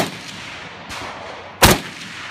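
Gunfire on an action stage at a rifle match for FAL rifles, heard as a couple of sharp shots, the last one loud and close with a short ringing tail, over a steady outdoor background.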